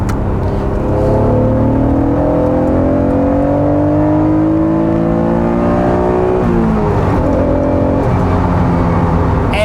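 An Acura NSX NA1 sports car engine revs hard and climbs in pitch from inside the cabin, then drops sharply on a downshift and pulls up again, loud and continuous.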